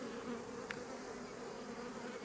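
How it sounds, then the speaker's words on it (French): A honeybee swarm leaving a hive fills the air with a dense, steady buzzing hum that stays continuous and moderately loud, with no talk. "l'essaim est sorti de cette ruche-là"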